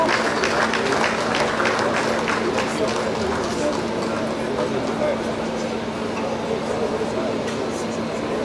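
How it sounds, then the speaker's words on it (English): An audience claps for a senator at a large political gathering. The clapping is continuous and crowded, with a constant hum and some cheering mixed in, and it keeps up steadily at high volume. "A round of applause for him, please."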